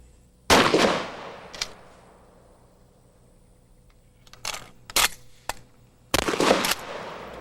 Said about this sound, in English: Now let's look at the firing characteristics of these conventional rounds.